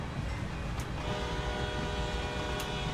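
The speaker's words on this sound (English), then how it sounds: "Bit of a honk as we go past." A train horn sounds in Train Sim World 2 on the Cane Creek line: one long, steady blast that rises over a continuous low rumble of rolling rail cars and lasts to the end.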